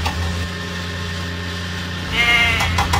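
Goats bleat from an animated children's train episode, a short, nasal bleat rising near the end over a steady low hum.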